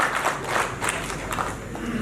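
Moderate applause from an audience at a memorial lecture series as a speaker is welcomed back, scattered clapping with a slightly uneven rhythm and no voices on top.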